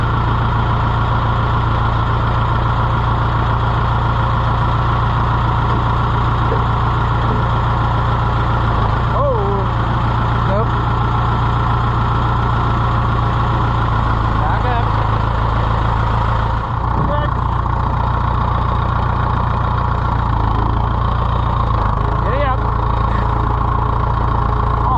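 Spot sprayer engine idling steadily after a cold start, a loud continuous low rumble that runs unbroken throughout, with a person talking briefly over it.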